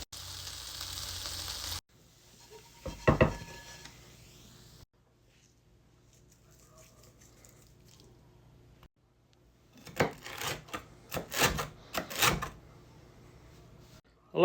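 Shredded potato hash browns fry in oil and butter in a non-stick pan, giving a steady close sizzle that fades, then sharp crackling bursts of spitting fat near the end, with no talk.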